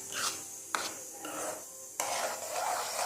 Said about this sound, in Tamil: நல்லா கிண்டுங்க